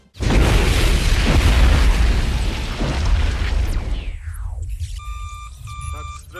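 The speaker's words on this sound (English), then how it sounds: "explosion." A loud, close explosion from a James Bond action scene bursts in and rumbles heavily for several seconds, then decays under a falling whine and electronic beeping tones.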